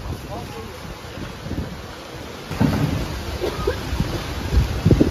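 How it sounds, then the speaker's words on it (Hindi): Hard storm wind gusting in Bombay, a broad rushing roar with buffeting rumbles against the microphone that strengthen partway through, with voices underneath. "बाप रे बाप, बहुत भयंकर तूफान आ गया बॉम्बे में।"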